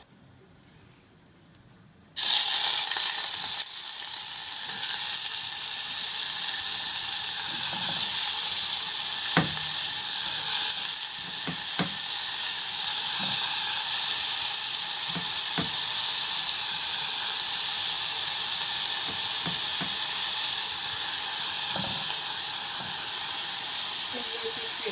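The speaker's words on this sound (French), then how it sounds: "vous allez mettre un tout petit peu d'huile pour juste faire suer les oignons" Onions in a little oil in a small saucepan begin frying with an abrupt steady sizzle and hiss that continues evenly and close for over twenty seconds, with occasional light clicks and stirring.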